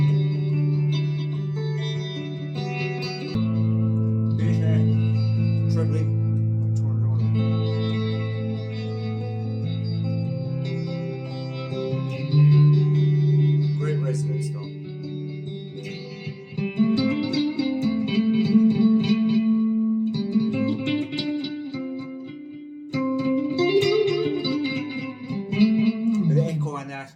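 Electric guitar played through a Fender Mustang LT25 amp with delay and a generous reverb, sustained chords and melodic lines ringing out with echoing tails, loud and clear, with no voices.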